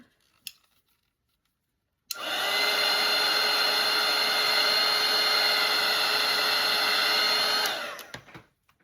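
A hair dryer switches on and runs in a steady, loud whir for about five seconds to dry watercolour paint on paper, then winds down to silence, with a couple of faint clicks around it.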